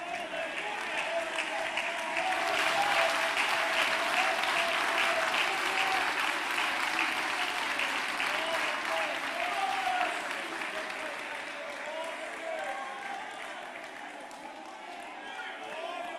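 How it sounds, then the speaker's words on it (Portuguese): A church congregation applauding, the dense clapping loud and sustained for most of the stretch before thinning slightly toward the end, with a crowd murmur beneath. "Você pode aplaudir a Jesus?"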